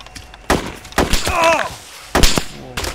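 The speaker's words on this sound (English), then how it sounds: "Gunshots." Several sharp gunshots crack out in bursts in the DayZ Arma 2 mod, with a pitched electronic tone sliding between them, like game gunfire layered over a synthetic soundtrack.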